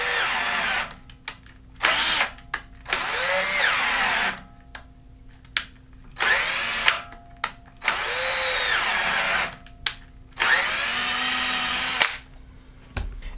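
Power drill tapping threaded holes in Actobotics X-Rail aluminum channel, running in four long whirring bursts with brief stops and clicks between them, close and loud, with no talking.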